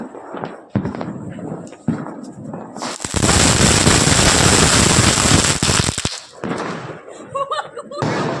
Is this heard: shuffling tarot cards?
no